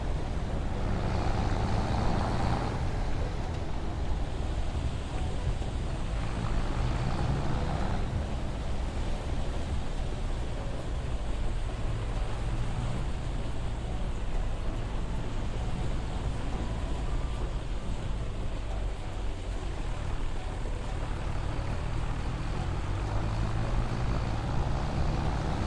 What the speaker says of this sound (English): That roar from the tractor is heaven to me.